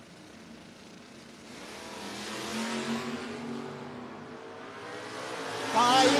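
No-box drag race cars, among them Mopars, run down the strip at a 660 shootout. A building engine roar rises and swells toward the finish, and a sharp burst comes right at the end.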